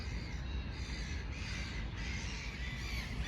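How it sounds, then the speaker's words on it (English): Seagulls call repeatedly outdoors, a faint, raspy cawing and squawking spread across a few seconds. "Them noisy seagulls."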